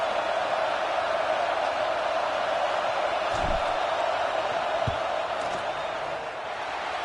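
A football stadium crowd roars in a continuous, dense wash of noise during a field goal attempt, with a couple of brief thuds within it.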